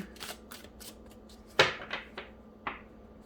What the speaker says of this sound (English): Let's pull some of these oracle cards here